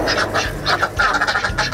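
Ducks on an integrated farm quacking in quick, overlapping bursts, close and fairly loud, with no talk.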